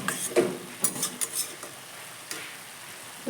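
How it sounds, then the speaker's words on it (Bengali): Cabbage being stirred in a pan with its lid lifted, a few close clatters and scrapes of a spoon against metal in the first second and a half, then a quieter soft sizzle with one more knock, no talking. "আবার ঢাকনাটা খুলে একটু নেড়ে দেব"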